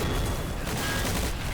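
Mortars and heavy tank cannons firing in a war video game, a dense, continuous barrage of overlapping booms and cracks, loud and chaotic throughout with no pauses.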